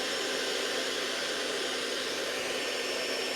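A hair dryer blasting a steady airstream that holds up a ping pong ball, a loud, constant broadband whoosh close by with no other sounds.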